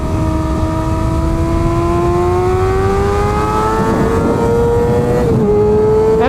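A Kawasaki ZX6R sport bike on a race track gives a steady, rising high-pitched engine whine as it accelerates, with a brief break for a gearshift near the end, loud and close throughout.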